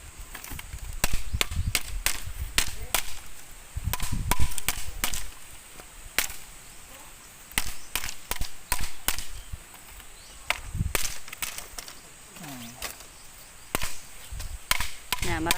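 Material for a wall of a bahay kubo is pounded flat and cracked: a long run of sharp, loud, splintering strikes comes in irregular bursts with short pauses between them.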